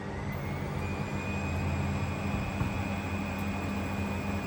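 A Hoover 530 washing machine spins its drum at 800 rpm, giving a continuous mechanical whir with a steady rising whine over a low rumble, even and fairly loud.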